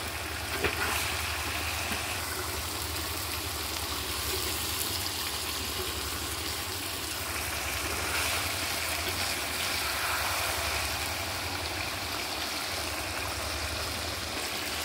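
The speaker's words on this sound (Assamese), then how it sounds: "উতলি আছে মাংস" Chicken curry simmers and bubbles in a pot over the fire, a steady dense hiss of boiling and sizzling that runs unbroken and fairly loud throughout, with no voices.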